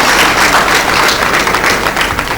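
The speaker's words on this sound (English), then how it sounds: "Round of applause for this." An audience at a legal event applauds, a loud, dense wash of clapping that holds steady throughout with no pauses.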